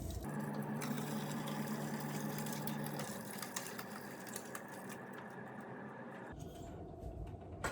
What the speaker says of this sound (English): you're going to want to transfer the curd and the whey and strain it through this cheesecloth